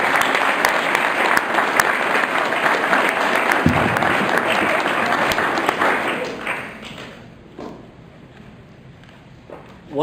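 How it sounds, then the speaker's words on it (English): Sustained applause from a Boy Scout troop audience at a court of honor fills the room for about six seconds, then thins to a few scattered claps and quiet. "let's give Joe and his ASPLs another round of applause."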